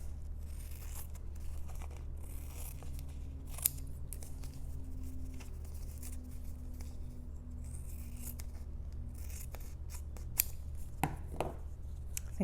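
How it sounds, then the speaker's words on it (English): Scissors cut adhesive-backed fabric into strips with a steady run of close crisp snips and papery crunches, a few sharper clips standing out, and no talking. "And I'm going to cut 2 strips."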